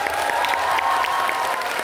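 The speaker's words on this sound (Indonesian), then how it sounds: "tepuk tangan yang meriah untuk Anies." Audience at a public university lecture in Bandung applauds the speaker, a steady dense clapping from a crowd that holds evenly throughout, fairly loud and close with no voices on top.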